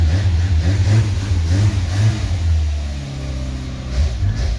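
A Renault R5 engine is revved during a cold start at -9°C, a loud, close, low throbbing roar that surges and dips unevenly as the throttle is worked.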